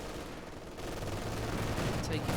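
Video game .50 cal machine gun firing in a wartime battle, a dense, continuous roar of rapid shots that grows slightly louder toward the end.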